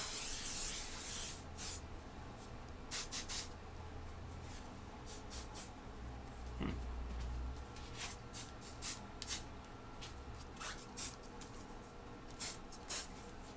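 Adidas Team Force body spray hisses from an aerosol can in a long burst at the start, then in several shorter bursts with rubbing and handling sounds between them. It is close and fairly quiet, and no one speaks.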